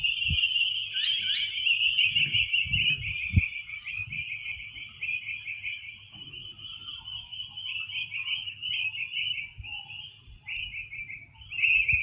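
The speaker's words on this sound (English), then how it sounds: "And also listen to the birds." A continuous high trilling call runs nearly unbroken outdoors, with a few sharper chirps layered on top and faint low thumps underneath.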